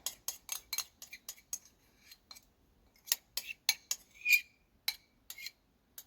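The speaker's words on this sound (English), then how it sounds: "I'm going to put this into another bowl, and we'll use a silicone spatula to get all of it out." Strawberry oatmeal bar mixture scraped out of one bowl into another, heard as a series of close, crisp scrapes and taps in short clusters with quiet gaps between, no talking.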